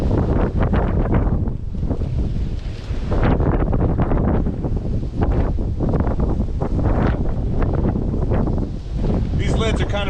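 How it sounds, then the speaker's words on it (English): Strong wind roaring across an open microphone in near ground-blizzard conditions, a loud continuous buffeting rush with gusty surges that fills the whole clip. "the wind picked up a whole bunch. It's almost a ground blizzard right now."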